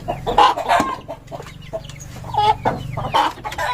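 A chicken clucks loudly and close in repeated short bursts with occasional squawks, heard without talk.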